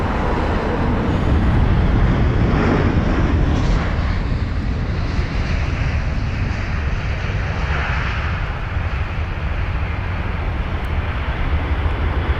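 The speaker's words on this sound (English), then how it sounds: "which is the British Airways A320-200 with the Reg Golf Echo Uniform Yankee Alpha, or GEUYA" A British Airways Airbus A320-200 airliner, fifteen years old, at London Heathrow, with a steady, loud roar of jet engines and broad rushing noise held throughout, swelling slightly early on and then sustaining evenly.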